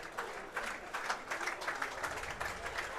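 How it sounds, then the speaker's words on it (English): A school rugby crowd applauds a player at a Durban High School versus Dale College match, a steady patter of clapping spread across the stands with distant talk beneath it. "The crowd giving him a round of applause."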